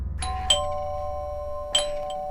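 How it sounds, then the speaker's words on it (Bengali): A doorbell rings twice inside a home in a Bangla TV drama, each ring a bright two-tone electronic chime with a ringing tail. The second ring comes about a second after the first, close and clear over low room hum, with no talking. "কলিং বেল বাজছে, শুনতে পাচ্ছ না?"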